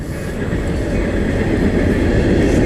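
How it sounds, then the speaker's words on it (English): A train rumbles past nearby, a loud, continuous low roar that builds slightly over a few seconds with no break. "Boy, this is a noisy place. Here comes a train."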